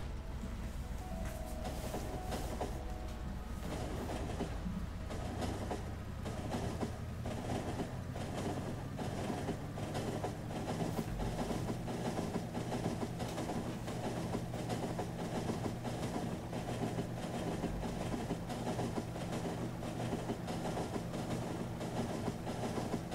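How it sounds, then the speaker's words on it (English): Train ride in the game Factorio, a steady rhythmic clickety-clack of wheels over rail joints under a continuous low rumble, rolling on evenly with no voices. "Some of these train rides are starting to get pretty long."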